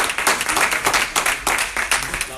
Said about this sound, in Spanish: Vámonos, un aplauso a Cristo por estos testimonios.